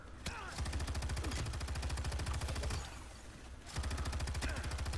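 Rapid machine-gun fire in the Battleship video game: fast, evenly spaced shots fire in long sustained bursts, close and loud, with a short lull midway before the firing resumes.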